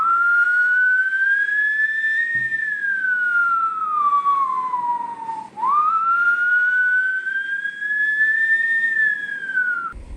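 A man vocally imitates a police siren, a loud whistling wail rising and falling in two long sweeps, sustained alone without talk.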